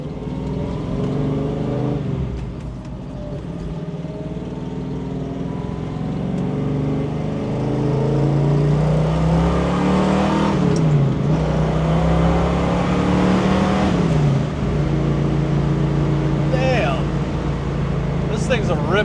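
A 1969 Mustang Mach 1 428 Cobra Jet engine revs up and accelerates, the pitch climbing steadily and loudly, with someone talking over the engine noise.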